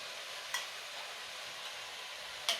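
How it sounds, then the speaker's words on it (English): Vegan pad kee mao being stirred with sauce in a pan, a steady soft sizzle with a couple of brief scraping clicks from the utensil, no voices. "And now what we'll do is we will keep on stirring."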